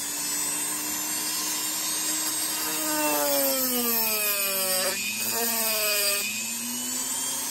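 A handheld power carving tool whines close up as it shapes a wooden otter sculpture, its pitch sliding and wavering as it bites into the wood, steady and loud with no talking.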